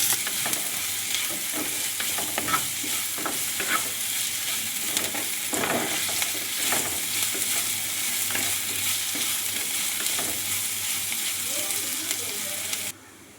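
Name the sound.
sautéing anchovy mixture with green chillies in a pan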